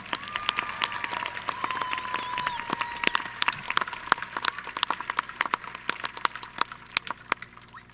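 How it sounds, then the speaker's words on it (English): Applause for graduating seniors at the Goodrich High School class of 2023 graduation ceremony, thinning to scattered individual claps; moderately distant in a large hall with a faint tone early on. "Let's get one more round of applause for our seniors"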